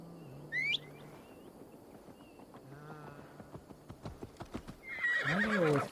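A horse in the Assassin's Creed Valhalla video game lets out a brief whinny, then its hooves clip-clop in a quickening rhythm before a louder, drawn-out neigh at the end, over a soft ambient background.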